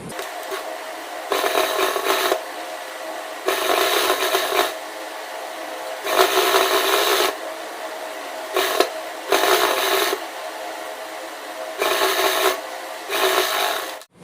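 Sewing machine stitching lace into a kameez hem, running in repeated short bursts of fast stitching separated by brief pauses, close and fairly loud.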